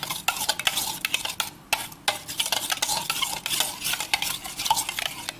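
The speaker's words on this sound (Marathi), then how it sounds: "हे सर्व साहित्य आपण मिक्स करणार आहोत" Brisk, irregular clinking and scraping of a spoon stirring pumpkin raita ingredients in a bowl, close up with no talking.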